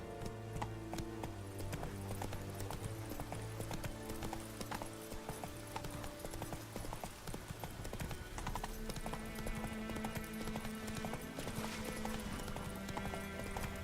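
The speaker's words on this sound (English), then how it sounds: "Run, Roach." Steady clip-clop of a horse galloping in the video game Witcher 3, continuous hoofbeats under a dense bed of game music throughout.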